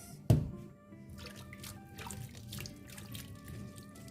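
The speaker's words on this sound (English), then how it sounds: "Ensure that you wash these cherries thoroughly. Make sure you can spin them around." Cherries being washed by hand in salted water in a bowl: a sharp splash at the start, then soft, quiet sloshing and trickling water.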